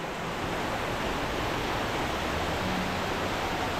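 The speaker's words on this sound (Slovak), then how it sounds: "Tu je ďalší vodopád." A waterfall on Negros island in the Philippines, in the rain: a dense, continuous rushing roar, loud and unbroken, with no voices.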